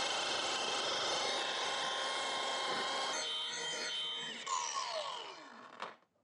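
A rotary polisher pad cuts freshly sprayed, still-soft clear coat on a Harley Dyna fender, giving a steady close-up rasp. The tool then spins down with a falling whine near the end.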